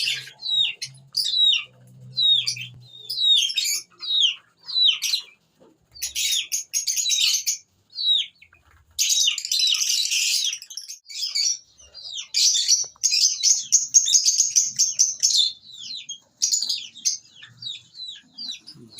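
Caged parrots, some of them cross-bred, chirp and tweet in a near-continuous stream of sharp, high calls and rapid trills during breeding season, loud and close, with a few brief lulls.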